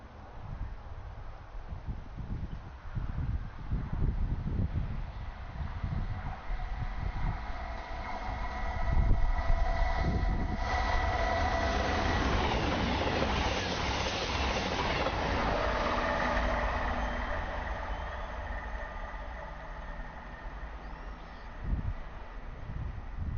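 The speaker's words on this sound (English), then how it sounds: "Class 221 passes towards Glasgow Central via Newcastle and Edinburgh" A Class 221 train rushes past a footpath level crossing, a loud sustained rumble with rhythmic wheel clatter that swells to a peak and then fades, with wind noise throughout.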